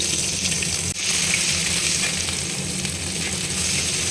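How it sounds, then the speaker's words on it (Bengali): Cashews drop into hot oil in a wok and fry with a loud, steady, dense sizzle that continues unbroken throughout, close up and with no talking. "কড়াইতে তেল দেখো গরম হয়ে গেছে এবার এর মধ্যে কাজুগুলো দিয়ে দিলাম"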